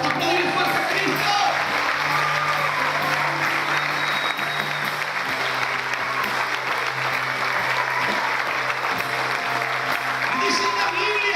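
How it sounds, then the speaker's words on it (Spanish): Loud, sustained applause from a church congregation fills the whole stretch at steady volume, with an organ or keyboard chord holding underneath. "Por eso, aplaudir fuerte a Cristo."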